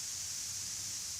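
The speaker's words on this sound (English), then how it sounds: "the masker sound is almost like a white noise" Broadband hiss from a TinnMasker tinnitus masker, close to white noise with a bright upper band, steady and unbroken at low volume for just over a second, with no voices.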